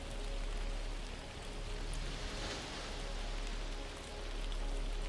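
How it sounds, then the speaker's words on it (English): Rain falls steadily in the survival game Aloft, a dense, even hiss of drops that stays loud and unbroken throughout, swelling slightly at the start and end. "Raining."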